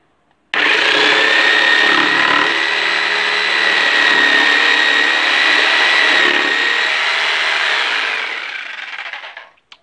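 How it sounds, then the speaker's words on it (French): Plugged-in jigsaw cutting along a line in a piece of wood, a loud steady buzzing whine that starts abruptly, runs about eight seconds close by, then winds down, with no talk. "ma scie sauteuse est branchée, je viens me placer au-dessus du trait comme ceci, et ben ensuite j'ai plus qu'à découper"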